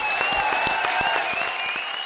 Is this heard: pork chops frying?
no